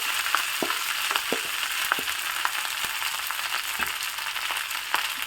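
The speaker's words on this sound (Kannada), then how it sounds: "ಈಗ ಇದಕ್ಕೆ ರೆಡಿ ಮಾಡ್ಕೊಂಡಿರೋ ಕಲಸಿ ಇಟ್ಟ ಅನ್ನವನ್ನು ಹಾಕ್ಕೋಬೇಕು" Cooked rice tossed into a pan of hot cashew tempering, a continuous frying sizzle with a regular rhythm of sharp spoon scrapes and clicks against the pan, close and fairly loud.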